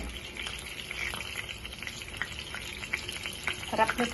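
Salted tuna (tulingan) frying in a pan for breakfast, giving a steady crackling sizzle with small pops and a few louder spatters near the end.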